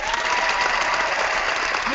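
Canned applause sound effect played on a podcast: a short, loud burst of crowd clapping mixed with some cheering, continuous and even for just under two seconds.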